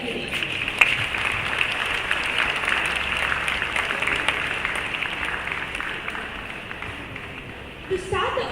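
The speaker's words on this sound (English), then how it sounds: "We have a round of applause for this ceremony today." Applause fills a hall at the 2023 first convocation ceremony of NID Andhra Pradesh: a steady, dense wash of many hands clapping that holds evenly for several seconds, with voices talking over it.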